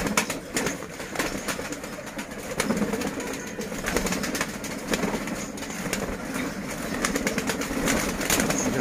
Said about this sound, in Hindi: ज्यादातर बेदाग कबूतर है सब।